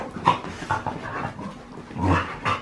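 Dogs scuffle and tussle nearby, with bursts of heavy panting, snuffling and low grunts spread across a few seconds.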